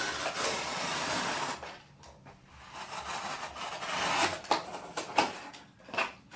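An X-Acto knife locked in place and dragged across material while an Ikea Malm drawer is being built gives a close, raspy scraping rub. The rub is steady at first, then breaks into shorter strokes and scratches, with no talking.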